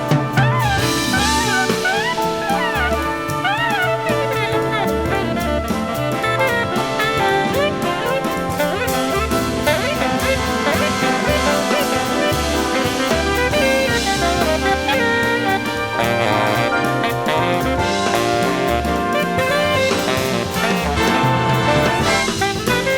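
A tenor sax solo plays over a layered harmonic ensemble background, dense and continuous with sustained chords, loud and full throughout, with no talk.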